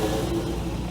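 A Lancia Delta Integrale rally car at the Shelsley Walsh hillclimb gives a brief, steady, buzzing engine note that stays at a fairly even loudness with no voices.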